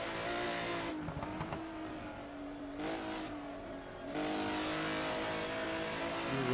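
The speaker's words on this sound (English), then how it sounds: "Ooh, a bit of an over rev over Hunserush, the Hunserush crest though." A race car at the 1980 Procar race, the Dutch Grand Prix, over-revs over the Hunserug crest. A close, loud, continuous engine roar drops briefly in pitch twice, then surges back to full howl.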